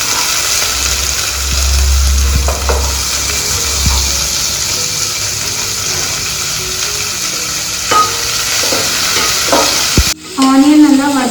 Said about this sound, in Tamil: இஞ்சி எல்லாமே சேர்த்துட்டு நல்லா வதக்கி விட்டுக்கோங்க